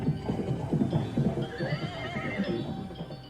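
An Arabian horse neighs with a drawn-out whinny over a steady, rhythmic clip-clop of hooves, fairly close and continuous throughout.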